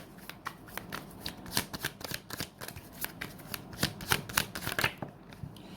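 Tarot cards being shuffled by hand, a steady run of crisp riffling flicks and soft slaps up close, with no talking over it.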